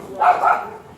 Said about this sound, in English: What kind of dog is that she got?